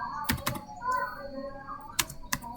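Several sharp keystrokes on a computer keyboard while a Linux command is typed, a quick pair of taps early, then two more isolated clicks later, fairly close over a faint steady background with no talk.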